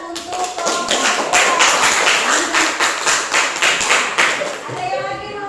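A classroom group receives applause from fellow students, a dense burst of many hands clapping close by, steady and lively for several seconds with some taps and thumps mixed in.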